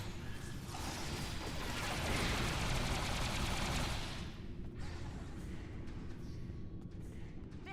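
Heavy bursts of cannon fire blast out of the walls in the Star Trek Online space game, a dense, loud barrage for about four seconds that thins to scattered crackling and rumble.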